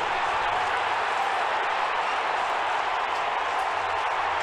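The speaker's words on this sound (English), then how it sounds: "Look at the crowd reacting behind him." A baseball stadium crowd roars steadily after a tying run, a dense, continuous wash of cheering and applause filling the whole stretch without a break.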